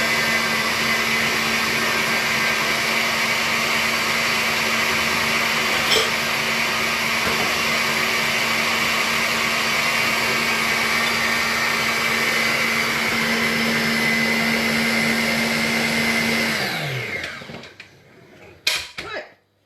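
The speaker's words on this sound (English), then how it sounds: "Just give it a tiny bit more of a whisk." Electric whisk beating a mixture in a kitchen: a steady, close, continuous high motor whir that holds for most of the time, then winds down and stops, followed by a few clinks.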